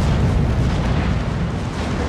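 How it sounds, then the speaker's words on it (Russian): In a naval video game, a main-gun turret on the battleship Mikasa fires at a cruiser. It makes a loud, deep, rumbling boom that fills the whole short moment without pause. "И со второй башни выстрел."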